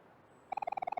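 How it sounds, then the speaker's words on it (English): Rapid run of about a dozen clear, bright bird chirps, close and even in rhythm, starting halfway through after near silence, as ambient outdoor birdsong in the video game Omori. "You can hear some birds chirping outside."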